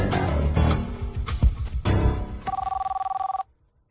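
A telephone rings with an incoming call from India, a loud electronic trilling ring that repeats in bursts and then stops abruptly.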